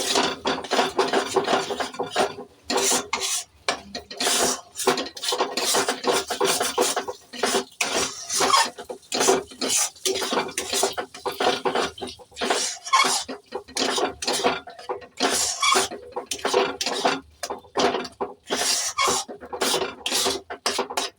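Pea stuffing for koraishutir paratha being mixed with sattu in a pan, giving steady scraping and rasping strokes of a spatula against the pan, loud and close, in repeated bursts with short pauses, no talking.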